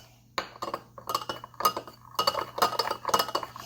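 A cracked egg is mixed in a bowl with a utensil, giving quick, irregular clinks and taps of metal against the dish, close up with no talking.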